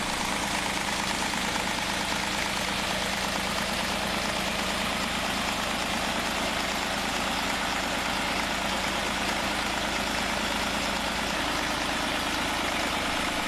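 An antique slow-speed diesel engine of roughly 27 to 35 horsepower with mechanical fuel injection runs steadily, a continuous low rumbling drone with an even rhythmic chug throughout, close and unbroken.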